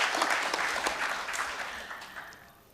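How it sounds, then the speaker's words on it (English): Conference audience clapping at a plenary session of a keynote event, a brisk round of applause from a smallish crowd that starts strong and gradually fades. "we have to clap much louder"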